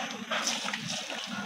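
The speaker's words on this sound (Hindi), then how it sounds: "इसमें पानी इतना डालेंगे कि 2 लीटर हो पानी" Water poured into a cooking pot for beef paya, a steady splashing, trickling pour heard up close for the whole short stretch.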